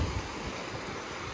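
Ocean waves wash onto a beach in a steady, broad surf rush, with wind buffeting the microphone and no speech.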